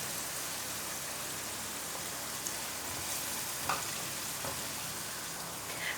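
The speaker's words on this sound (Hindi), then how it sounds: "प्याज को भी करेंगे हल्का सा फ्राई।" Finely chopped onion and green chillies fry lightly in a pan with a steady, soft sizzle, plus occasional faint stirring clicks. No one speaks over it.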